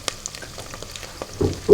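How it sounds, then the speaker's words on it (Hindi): Mutton with turnip, cauliflower and potato lightly frying in a pot for a home-style curry: soft scattered crackles and sizzles, ending in two short, louder bursts of stirring. "ये हल्के से फ्राई हो जाएंगे।"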